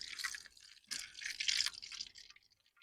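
Cooking oil is poured into a pan for frying kajjaya, heard as faint, intermittent liquid splashes and trickles in short bursts that fade toward the end, with no talking.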